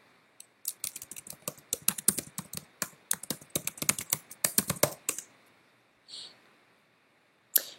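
Fast typing on a computer keyboard, a dense run of sharp close key clicks for several seconds, then a pause and a couple of isolated taps, with no voices.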